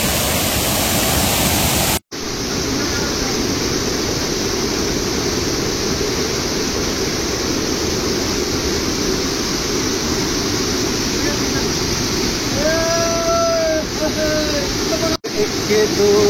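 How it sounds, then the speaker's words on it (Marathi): A waterfall in the Sahyadri hills, seen on a ghat trek, roars as a loud, continuous broadband rush of falling water close by, steady throughout except for two abrupt cutoffs, with a voice speaking over it. "बघा किती सुंदर हा धबधबा आहे."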